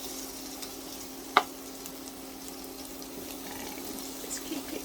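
Sausage meat stuffing frying in a non-stick pan from Lidl, giving a soft steady sizzle with one sharp scrape or clink from stirring partway through.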